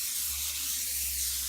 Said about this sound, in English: Spray oil